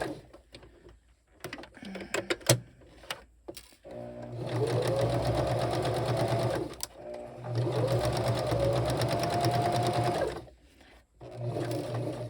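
A sewing machine stitches the bottom edge of a towel made from a shirt, a close, steady whirring run in two long bursts after some handling clicks and taps.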